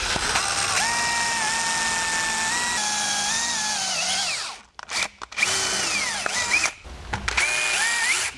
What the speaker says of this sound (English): I got to wiggle my drill bit.